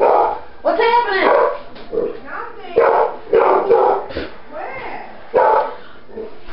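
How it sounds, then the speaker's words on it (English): Several dogs barking loudly and excitedly nearby, repeated bursts of barks and yips with whimpering in between, irregular and overlapping throughout. "They're barking for nothing."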